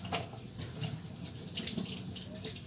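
Leftover food and water poured down a kitchen sink, a continuous splashing, gurgling flow heard close up for a few seconds.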